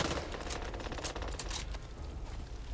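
Dense, continuous automatic gunfire from the video game Back 4 Blood, a rapid unbroken rattle of shots that stays loud and steady throughout.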